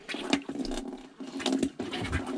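A foot pump pushes water through the plumbing to the sink tap of a DIY Sprinter camper van, making close, gurgling splashes in uneven strokes, with a pause midway between pumping bursts.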